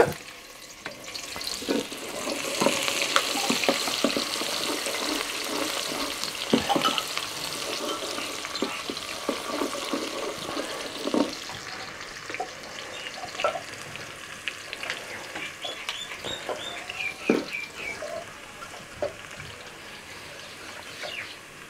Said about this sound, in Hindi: घी मेल्ट होने के बाद इसमें प्याज डालेंगे